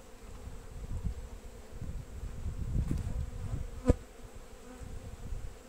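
Honeybees buzz continuously around frames of newly drawn foundation in a young hive split, a dense low hum close by with a single sharp tap partway through and no talk.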